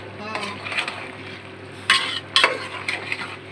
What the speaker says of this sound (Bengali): সবজিটা আমরা কষাই নিই।